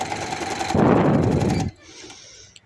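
A sewing machine runs in a steady dense burst while stitching a seam on a baby boy's hoodie, loud and close for about a second, then stops and leaves quieter background noise.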